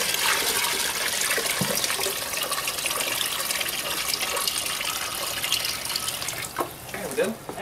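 Water pours steadily from a tap into a 5-gallon bucket for an NFT hydroponic system, a continuous broadband splashing rush that lasts the whole stretch, with faint voices appearing near the end.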